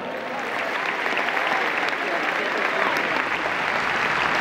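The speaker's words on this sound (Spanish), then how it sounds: "Un fort aplaudiment per a Fernando Giner" A hall audience at a Valencia legends match presentation in Mestalla applauding former Valencia footballer Fernando Giner, dense sustained clapping at close range that stays strong throughout.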